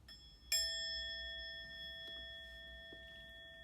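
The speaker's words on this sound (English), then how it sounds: "we'll take a moment to listen to the bell" A single bell strikes once and its clear ringing tone sustains, slowly fading over a few seconds in a quiet space.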